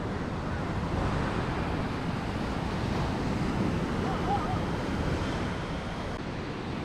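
Ocean waves washing onto a clean beach in Bentota, Sri Lanka, a steady, full surf roar with some wind buffeting the microphone, unbroken throughout.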